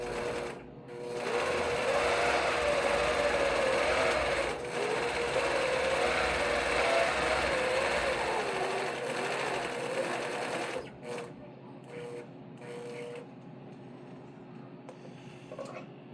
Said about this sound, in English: I'm going to go ahead and baste the right side